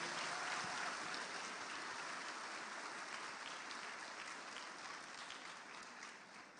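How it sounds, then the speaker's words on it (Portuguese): A church auditorium audience applauds to welcome a pastor, dense steady clapping that stays even and gradually fades slightly, heard alone without talk. "Vamos dar uma salva de palmas para ele,"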